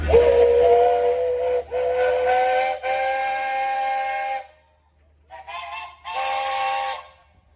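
A loud steam whistle at a steam threshing show in Sycamore, Illinois blows in long blasts with hissing steam, breaks off briefly, then sounds again in shorter bursts.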